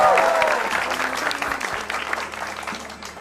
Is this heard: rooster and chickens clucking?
no